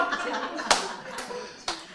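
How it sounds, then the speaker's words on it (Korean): Sharp hand claps, one near the start and another near the end, ring out over someone talking during a Bible lecture. "이거 박수."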